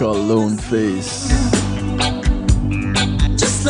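A song plays, a vocal track with a sung voice over a steady beat and bass, loud and close throughout.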